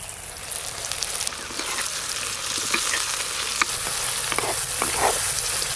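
Whole cinnamon, green cardamom, cloves, dried red chillies, cumin seeds, chopped onion and whole garlic cloves frying in a pan for a Bihari-style mutton curry, a steady sizzle with scattered clicks of stirring throughout.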